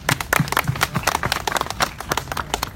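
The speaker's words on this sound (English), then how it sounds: "can we give a round of applause for our brother Mansoor Alam here" People at a street protest in Australia clap for a fellow activist, loud, close, uneven hand claps in a scattered rhythm with a faint background murmur.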